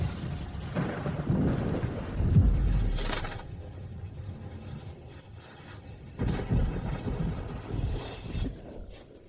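Rain and a thunderstorm, with deep rolling thunder rumbles swelling and fading over falling rain, several distinct bursts of varying strength.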